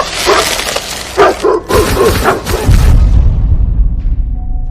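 A dog in a Mahabharata story scene barks loudly in rapid bursts with yips, then the barking stops abruptly and a low rumble with a faint tone follows.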